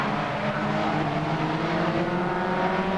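Stock cars race around the oval at Arena Essex, a loud continuous roar of several engines with steady droning harmonics, close and unbroken throughout.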